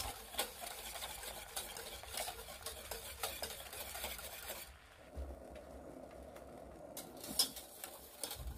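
A spoon stirs a simmering pot of Thai tea mixture with dissolved agar powder and sugar on the stove, giving a steady, close scraping and swishing that runs continuously, with a short quieter pause midway before the stirring resumes.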